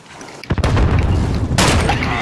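Call of Duty Modern Warfare gameplay gunfire: a few sharp, loud shots and booming bursts crack close by in quick succession, with a heavy blast near the end.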